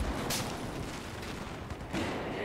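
Shotgun blasts in Battlefield 4, loud close reports in the middle of continuous battlefield gunfire and rumble, with a sharp shot near the start and another near the end.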